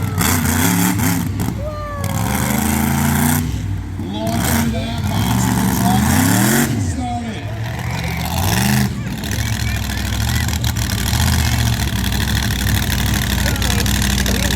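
A monster truck on a freestyle run at the Sussex Fair, its engine roaring loud and close, surging in repeated rising revs over a steady rumble while an announcer talks throughout.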